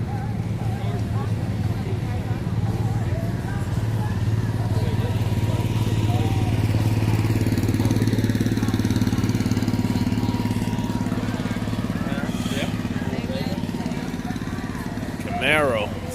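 Lumpy engine idle from a 1969 Chevrolet Camaro fitted with big tube headers at a nostalgia car show, a steady low rumble running throughout with crowd voices mixed in.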